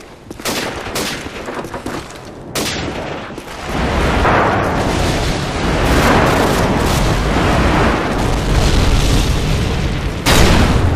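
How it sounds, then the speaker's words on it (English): Airstrike explosions in Call of Duty 4 boom and roll together into a loud, sustained barrage, with sharp blasts at the start and a final burst near the end. "Friendly airstrike on the way."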